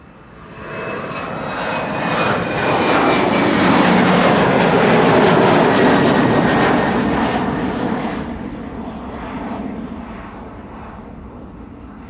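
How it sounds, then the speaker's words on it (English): A KLM jet airliner departing Amsterdam Schiphol for Oslo roars past, its engine noise swelling to a loud peak midway with a high whine, then gradually fading into a lingering rumble. "KLM flight 1201 to Oslo."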